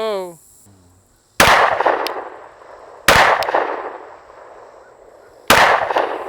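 Three sharp gunshots at an outdoor range aimed at a target through a budget red dot sight, each a loud crack with a decaying tail and spaced a second or two apart, after a brief electronic beep.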